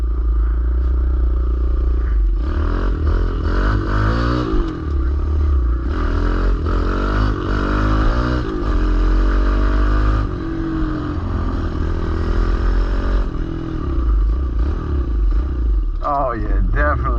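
A small pit bike engine running while being ridden, a steady buzzing drone with revving rises and falls throughout, with people talking over it.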